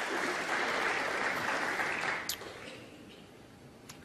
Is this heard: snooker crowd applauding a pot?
yes